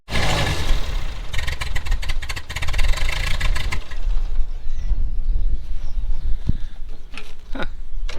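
A tractor engine with fuel problems cranks and catches, then runs roughly at a loud, mid-pitched idle with uneven surges close by.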